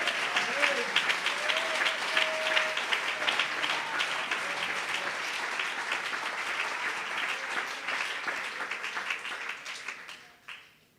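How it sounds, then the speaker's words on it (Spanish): A church congregation applauds in a dense, sustained burst of clapping that carries for several seconds, then thins and fades out near the end. "Dele ese aplauso al que crea eso en este día"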